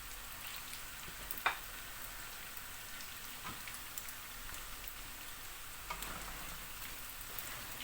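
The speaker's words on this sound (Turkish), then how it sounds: "Köfteler kızarıyor." Meatballs frying in a pan, a quiet steady sizzle with scattered pops and crackles, one sharper pop early on, no voices.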